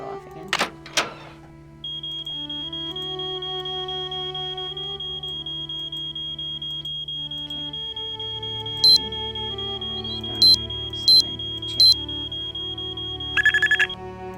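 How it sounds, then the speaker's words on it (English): A steady, piercing alarm tone sounds in the Nancy Drew game Treasure in a Royal Tower. It starts after a few clicks and holds without a break, with short bright electronic beeps cutting in now and then near the end. "Get ready for the alarm to go off again."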